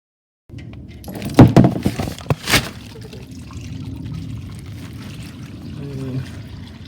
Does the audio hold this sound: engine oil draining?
yes